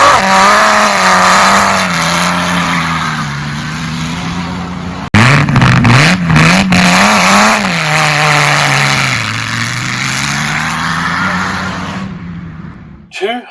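A home-built 1955 Australian Grand Prix race car engine revs loudly and continuously up close, rising and falling in pitch with a brief cut before roaring on.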